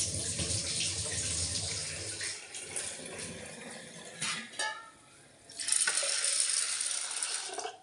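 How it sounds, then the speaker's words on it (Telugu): Water is poured over chana dal to wash it in a kitchen, a fairly soft, uneven splashing and trickling that stops and resumes, ending in a louder gush, with no speech. "వాటర్ అయితే పోసుకొని శుభ్రంగా కడుక్కుందామండి."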